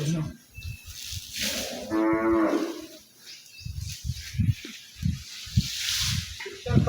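Stray cattle held at a village school shelter, a drawn-out bellowing moo rising mid-clip among rustling, shuffling and scattered thumps nearby, with no talk.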